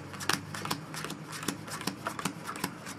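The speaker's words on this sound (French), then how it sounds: "on va compter 11 cartes face visible" Playing cards flipped face up and counted one at a time during a card trick, giving a close series of crisp, papery snaps and flicks in an uneven rhythm.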